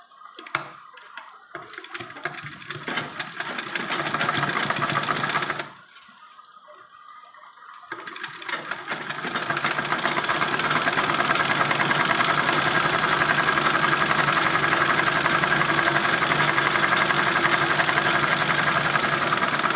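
A sewing machine runs steadily while stitching a homemade dress, its rapid mechanical ticking and motor whir rising after a brief pause and continuing loud and close.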